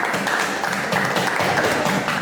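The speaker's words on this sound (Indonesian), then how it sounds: "sekali lagi berikan aplaus untuk kelompok 2" Applause from a classroom for the second student group, a dense steady patter of many hands clapping at once without a break.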